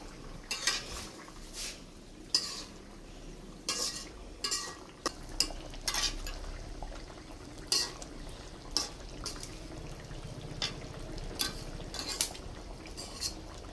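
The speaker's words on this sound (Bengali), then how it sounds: "এখন আমি বড়াগুলি আস্তে আস্তে সব দিয়ে নেব" Shrimp and pumpkin fritters are lowered one by one into a simmering curry and stirred. A utensil scrapes and clinks against the pot in irregular taps over a soft, steady bubbling, heard close and quiet with no voices.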